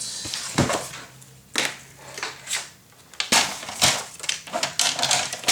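Paper for a Graphic 45 Couture mini album being cut down, giving a few sharp, close cutting crunches and snips in separate bursts with quiet pauses between them.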